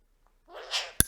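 On cue, a dog gives a single close sneeze, a rising breathy intake snapping into a sharp, abrupt burst after a moment of quiet.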